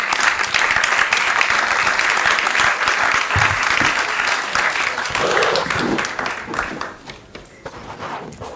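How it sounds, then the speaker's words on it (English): Sustained, dense audience applause fills the room after a panel session at a peace-financing conference, loud and steady before tapering off near the end. "Just give them a loud round of applause, please."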